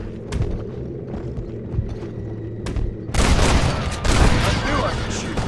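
Gunfire in Red Dead Redemption during a train defense against prison wagons: scattered shots over background game sound, then a dense, loud burst of firing.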